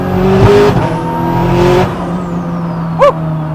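Honda NSX with a K20 swap and sequential gearbox roars loudly nearby, engine pitch climbing hard then dropping off, followed by a brief sharp chirp near the end.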